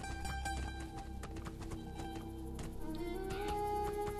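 Horse hooves clip-clopping in a steady rhythmic gait while riding in the video game Two Worlds 2, fairly quiet and set against a layered musical score with sustained tones.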